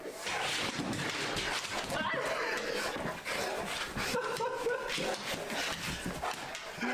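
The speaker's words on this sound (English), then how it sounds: "My 130-pound dog, Boris." A large 130-pound dog barks and whimpers nearby, rough vocalisations mixed with whining, loud and continuous over a noisy indoor background.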